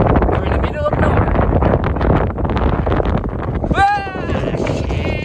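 Strong wind buffeting the microphone during an outdoor road ride, a loud continuous roar with gusts, with a person talking over it and a brief higher whistling tone.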